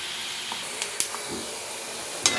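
Chicken pieces frying in oil for chicken pickle, giving a steady close hiss of sizzling with a few faint pops and crackles, and no talking.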